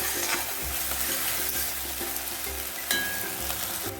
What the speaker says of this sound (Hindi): अभी हम डाल देते हैं ये अदरक लहसुन का पेस्ट, डाल के अच्छी तरह भून लेते हैं।